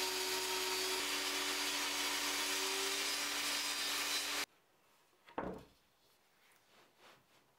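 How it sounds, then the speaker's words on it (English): A saw rips steadily through MDF shelf stock for several seconds, loud and continuous, then stops abruptly, followed by a brief scrape and a few quiet knocks of the board being handled. "I used the track saw to trim the length and the table saw to trim them to the right depth."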